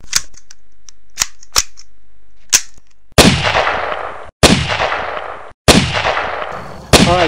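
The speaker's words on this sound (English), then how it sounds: "we're going to be shooting the Browning BAR in 22" A Browning BAR rifle chambered in .22, shooting Winchester High Velocity Super X rounds: a few sharp distant-sounding cracks, then three loud close reports, each with a long ringing decay, spaced about a second apart.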